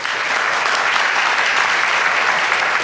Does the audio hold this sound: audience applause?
yes